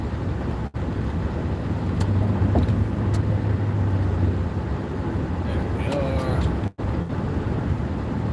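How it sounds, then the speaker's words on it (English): Road traffic is heard from inside a car in work-hour congestion, a steady close engine and road rumble throughout, with two brief dropouts and faint passing sounds, and a person speaking over it. "Last tail of that work traffic."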